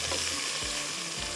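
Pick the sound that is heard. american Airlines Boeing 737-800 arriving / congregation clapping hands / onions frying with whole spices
onions frying with whole spices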